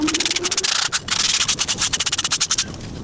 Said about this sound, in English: Now here we are going to now get the sandpaper for cleaning now the inner part.